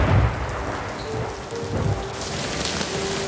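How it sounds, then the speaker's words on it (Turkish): Heavy rain pours steadily over a city on a stormy night, with thunder rumbling low beneath the constant hiss of the downpour. "O gece şiddetli bir fırtına şehre vurmuş."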